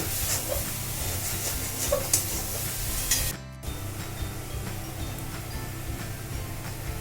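Chicken being stirred with salt in a pan for chicken kosha, an ongoing close sizzle with rubbing, ticking spatula strokes and a brief drop in sound midway, no voices.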